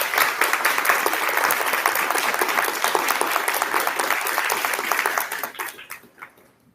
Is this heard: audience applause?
yes